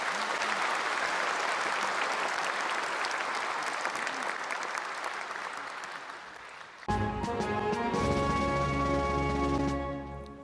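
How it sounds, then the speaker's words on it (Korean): A large Liberation Day ceremony crowd gives sustained, thick applause to a 91-year-old independence patriot, Oh Hee-ok. After about seven seconds, an orchestral music cue swells in over the fading clapping. "오희옥 애국지사께 여러분 다시 한번 큰 박수 부탁드리겠습니다"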